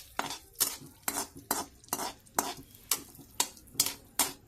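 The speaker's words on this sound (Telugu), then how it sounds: "గ్రీన్ పిస్తా వేయించాను. నెయ్యిలో వేయించాను." Pistachios fry in ghee in a pan for a sweet, with a spoon scraping the pan in an even rhythm of about ten strokes under a faint sizzle.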